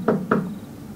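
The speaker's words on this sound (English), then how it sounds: "so I just knocked really hard" Two hard knocks on the front door of a building, sharp and close with a short gap between them, followed by quiet.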